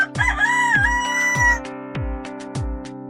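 A rooster crows clearly and up close over a short loop of bouncy children's music, with a long drawn-out cock-a-doodle-doo call and no talking.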